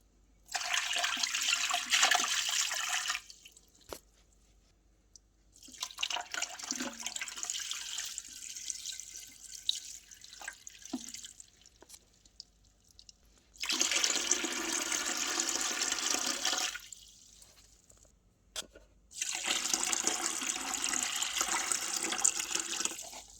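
Fresh and old water poured into an empty home fish tank, heard as four long, loud gushing pours with quieter breaks of trickling and dripping in between.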